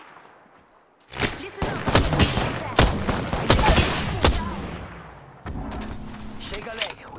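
Gunfire in the video game Apex Legends rakes toward the player in rapid, loud bursts and sustained volleys over several seconds, with a voice speaking briefly over the shooting.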